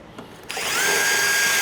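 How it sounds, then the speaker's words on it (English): A power drill bores a hole through the body of a 2026 Harley-Davidson Road Glide during a swoop fender and roll pan install, starting after a short pause and then whining steadily and loudly right up close. "we'll go ahead and drill this hole in the body"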